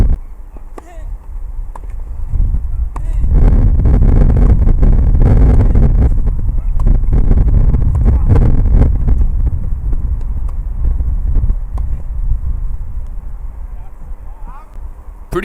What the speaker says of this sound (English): Pretty windy there as you can see this game